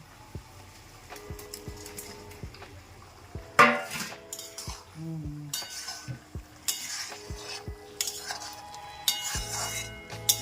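Chicken pieces tipped into a pan of simmering sauce for chilli chicken, with a clatter of a utensil scraping and stirring against the metal, intermittent knocks and a low bubbling sizzle underneath.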